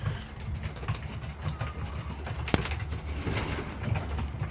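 A stray racing pigeon with a blue leg ring coos softly on a roof, low repeated coos over a faint outdoor background, with no talking.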